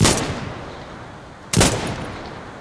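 Two loud, sharp sniper rifle shots from the retro shooter video game Dagger Directive, spaced about a second and a half apart, each with a booming echoing tail and no talking.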